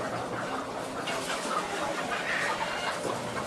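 Caged hens on an egg farm cluck and squawk together in a dense, continuous din that fills the whole space, with no single bird standing out.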